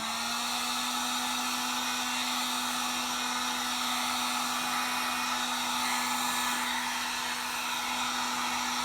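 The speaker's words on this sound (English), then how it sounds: "So you can use your heat shrink gun. Keep it moving." A heat shrink gun blows hot air onto heat shrink tubing on a wire, a steady, loud, continuous whirring hiss with a fixed motor hum, heard alone without any talk.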